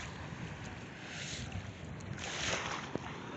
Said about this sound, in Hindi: ये देखें लहरें आज बड़ी तेज़ हैं, पहले तो ऐसी नहीं होती।